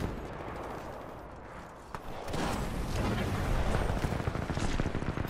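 Gunfire rattles in Titanfall 2 multiplayer, quiet at first, then dense overlapping bursts of shots swelling louder and continuous through the second half.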